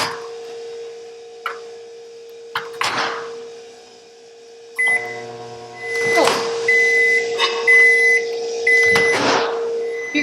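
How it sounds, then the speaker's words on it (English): Microwave oven heating chocolate melts in a bowl: a steady electric hum with door clunks and button beeps, then a louder running drone with repeated short electronic tones near the end, close and without talk. "we're going to microwave for 30 seconds each time"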